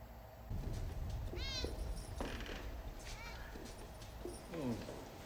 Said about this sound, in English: A black cat went past us, and then another that looked just like it.